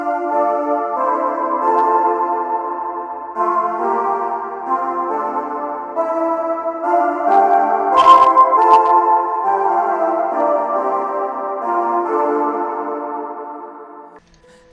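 A synth intro from a production of a song, treated with reverb, a filter and a compressor, plays sustained chords in shifting blocks. A brief bright glitchy burst cuts through midway before the pad fades out.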